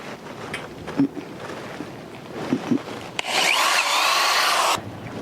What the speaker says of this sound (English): You need to secure these with the number 10 Tech screw.